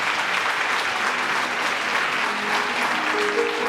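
A church congregation claps in sustained, dense applause, loud and even throughout with no gaps.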